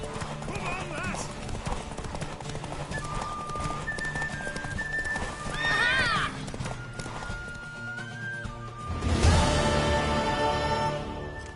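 A horse gallops with steady rapid clip-clop hoofbeats and gives a brief whinny in a Witcher 3 horse race, with music and voices talking over the hooves.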